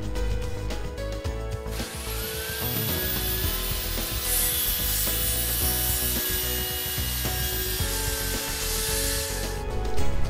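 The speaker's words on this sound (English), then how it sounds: "The power tool is run across the workpiece, providing a perfectly machined crosscut." A power saw on a Zoom Magnum 1000 guide crosscuts wood, whining and grinding steadily in a continuous buzzing cut with a rising pitch near the end.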